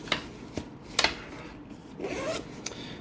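Zipper on an internal pocket of a Bellroy Venture Sling bag being opened, a few short rasping zips and fabric rubs, close and quiet.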